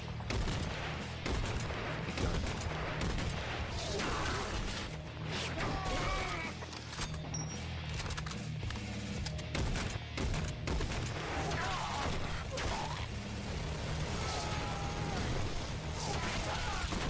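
Dense, continuous gunfire and explosions from a Fallout fan-made battle scene, with bursts of automatic fire and crashing impacts layered at a steady roar, faint voices shouting under the din.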